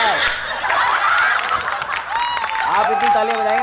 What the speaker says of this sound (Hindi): आप इतनी तालियां बजाएंगे कि मैं सियासी लीडर बन जाऊंगा।